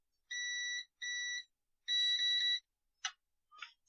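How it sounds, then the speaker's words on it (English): Electronic beeps from a pressed button on a device under test: three sustained tonal beeps, the last one longer, followed by two short clicky bursts, fairly quiet and with no speech. "And to check the beep."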